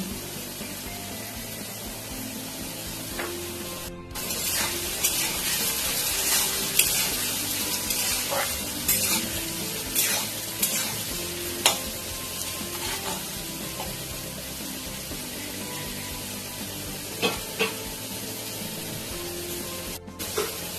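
Katla and hilsa fish oil frying in a pan with turmeric, giving a continuous close sizzle and spatter over about twenty seconds, broken by a few sharp clinks and stirring scrapes, with no talk.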